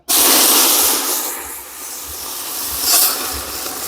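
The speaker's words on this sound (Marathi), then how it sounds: "दीड कळशी पाणी ओतून घेते पातेला" Hot water pours steadily into a pot with a continuous rushing hiss, loud and close, swelling briefly near the end.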